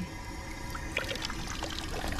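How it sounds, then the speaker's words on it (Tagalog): Cold water pours from a fountain in a steady, close, continuous splashing rush with no talk over it. "Malamig ba tong tubig nila dito? Ayan o. Para siyang fountain."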